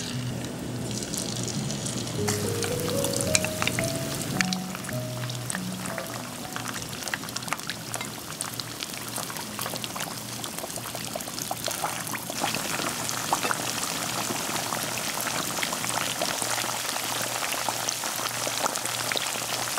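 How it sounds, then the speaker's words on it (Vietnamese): Hot oil bubbles and crackles loudly and continuously as fish deep-fries over medium heat, a dense rain-like sizzle that keeps going. "Dầu vừa nóng thì mình cho cá vào chiên nè."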